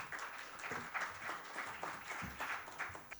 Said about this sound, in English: Everyone, a huge round of applause for Mrs. Roberta Barthen Barros.